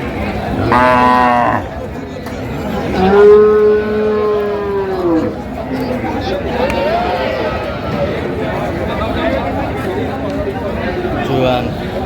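At a busy cattle market, a Sahiwal bull gives several drawn-out, close moos, the loudest one in the early seconds, while people talk and call out around it.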